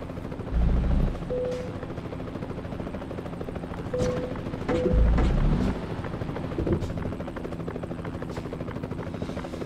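Helicopter rotor noise from the truck-driving game Euro Truck Simulator 2: a steady low thrum that swells into two heavier, louder bursts, with sharp crackling transients, playing alone without talk.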